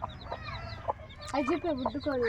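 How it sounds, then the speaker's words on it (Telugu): A hen and her chicks clucking close by, with short repeated calls and higher peeping notes mixed in, fairly loud and busy throughout. "బుడ్డు కోళ్ళు పిల్లల్ని వేసుకొచ్చేసింది"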